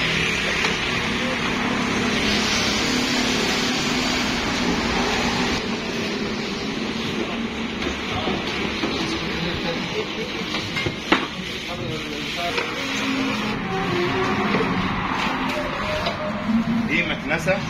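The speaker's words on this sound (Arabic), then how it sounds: "دي مكنسة ثلاثة موتور" A three-motor vacuum cleaner runs as a steady, broadband whirring drone throughout, at constant loudness, with people talking over it close by.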